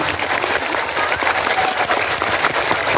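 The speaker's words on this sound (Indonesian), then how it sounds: "Kurang kenceng, tepuk tangan." Louder crowd clapping at a sholawat religious gathering in Indonesia, a continuous dense wash of many hands held at an even, fairly loud level for the whole stretch.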